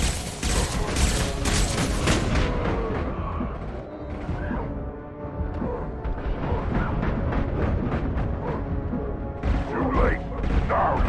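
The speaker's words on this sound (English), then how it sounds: "Taking heavy fire!" Heavy, sustained gunfire in Mass Effect 2: rapid overlapping shots and mechanical clatter fill the whole stretch, loud and close, with voices shouting now and then over the battle.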